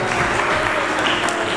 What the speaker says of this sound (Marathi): या सर्वांचं आपण सहकारी म्हणून जोरदार टाळ्या वाजवून स्वागत करूया